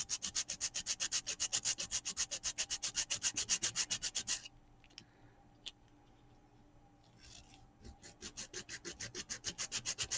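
Strokes from the coarse, darker side of a file rasp in a steady rhythmic series of quick scrapes, pausing briefly midway before resuming, close and fairly quiet with no talk.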